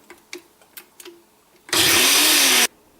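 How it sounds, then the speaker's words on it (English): Close and loud, a blender purées a hot sauce mixture for about a second, a dense steady whir that stops abruptly after a few light clicks and taps. "now we're just going to blend it until it's smooth."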